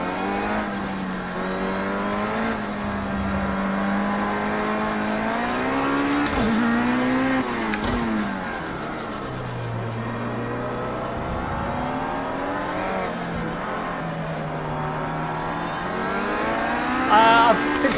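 An IndyCar racing car in Project Cars 2 sends out a loud, continuous engine whine that climbs and drops through repeated revs and gear shifts, with occasional tire noise as it works around the track.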